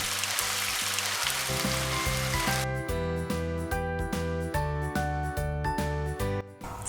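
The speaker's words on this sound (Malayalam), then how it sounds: "രണ്ട് സവാള നീളത്തിൽ കനം കുറച്ച് അരിഞ്ഞത് ചേർത്ത് മീഡിയം ഫ്ലെയിമിൽ ഫ്രൈ ചെയ്ത് എടുക്കാം" Thinly sliced onions fry on a medium flame with a steady, close hiss that is loudest at the start, then continues under rhythmic music with repeated chords.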